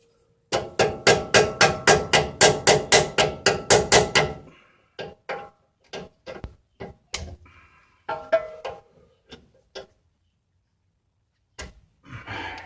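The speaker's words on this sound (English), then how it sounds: "Start with this cotter pin up here. Just going to unbend that just like that." Hand tools strike and work a cotter pin loose on a 2003-2015 Nissan Titan front end, with a rapid run of about a dozen sharp metallic taps followed by scattered, irregular clicks and knocks, close and dry, separated by quiet.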